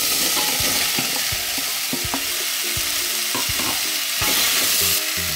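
Celery sautés in butter in a pan on a low flame, a bright continuous close sizzle with occasional soft stirring knocks from the spoon throughout.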